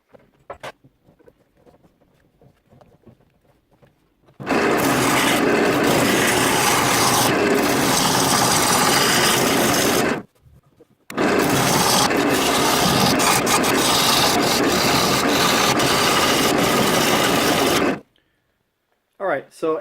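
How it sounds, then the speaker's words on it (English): A 9mm drill bit bores a hole through the middle of a wooden bowl blank, giving two long, loud, steady grinding bursts with a short pause between them. "I'm taking my 9mm drill bit, carefully drilling the hole in the middle."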